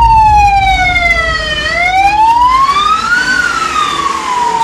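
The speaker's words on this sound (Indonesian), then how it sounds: "6 ambulan dikawal oleh kepolisian." Loud wailing sirens sweep up and down continuously, several overlapping as a convoy of six ambulances with a police escort passes close, with road noise underneath.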